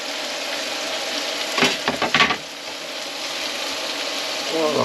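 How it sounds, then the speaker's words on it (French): Onion sizzling and frying in a pan inside a camping-car kitchen, a steady hiss with a brief burst of stirring and clatter in the middle, under occasional speech. "Je vais mettre l'oignon"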